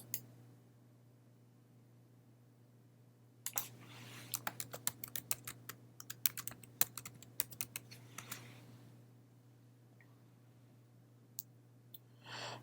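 A computer keyboard typed on briefly to name a folder in Windows 10: a quick run of light, close key clicks over a low steady hum, framed by near-silence before and after, with a few isolated clicks later.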